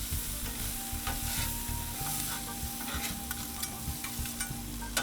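Minced garlic sizzles on a Blackstone 22-inch griddle alongside onions and peppers, a steady close crackle with scraping spatula strokes as the mix is stirred.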